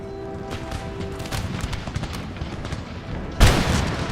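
Massed musket fire at will from line infantry in the strategy game Empire: Total War, a rolling crackle of scattered shots building to one heavy, booming burst of simultaneous fire near the end.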